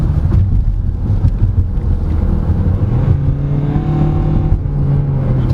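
A 2023 Hyundai Tucson diesel engine pulls hard under acceleration, a steady loud drone rising in pitch with quick gear shifts heard as step changes, wind and road noise around it, no talk.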